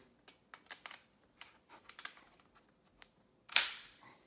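A magazine is worked into a PTR 9CT pistol, giving a string of faint, close metallic clicks and taps, then one sharper, louder clack as it seats.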